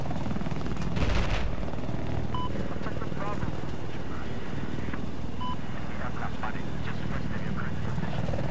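Attack helicopter in Battlefield 4 on the Golmud Railway map, a steady loud rotor drone under a busy battlefield with scattered clanks and beeps, while players talk over it.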